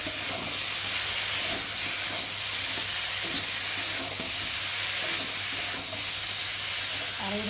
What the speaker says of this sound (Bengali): ভেজে রাখা চিনি মাছগুলোকে দিয়ে দেবো দিয়ে ভালো করে একটু নেড়ে দেবো